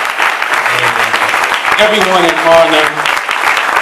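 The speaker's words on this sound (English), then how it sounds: "give Brother Ali applause" An audience applauds Brother Ali with steady, dense clapping that runs through the whole stretch while someone speaks over it into a microphone.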